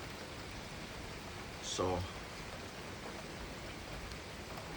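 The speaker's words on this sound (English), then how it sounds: "a beautiful rainy Saturday morning in Canada" Steady rain falls on a rainy Saturday morning in Canada during a heavy storm, a constant soft hiss of drops, and someone speaks a single brief word.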